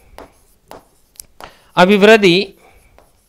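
Short, soft scratchy strokes of writing on a board come in a few separate bursts, then a voice speaks a single word in Hindi.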